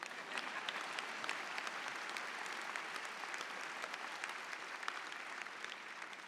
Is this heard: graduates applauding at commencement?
yes